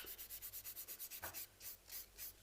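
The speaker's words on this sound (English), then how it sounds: "What kind of file are you using there? 240 grit file again, really soft" Acrylic nails are filed with a soft 240 grit file in quick, even back-and-forth rubbing strokes, close and fairly quiet, a steady rasping rhythm with one brief pause partway.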